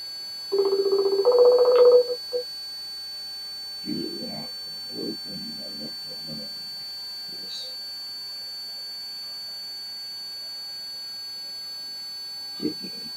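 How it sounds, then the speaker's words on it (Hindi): Phone call placed from a mobile: a loud electronic tone burst at the start, then faint, sparse sounds and brief muffled voice fragments over a steady low hum, largely quiet afterward. "चलिए कॉल यहाँ पर लगाया जाए"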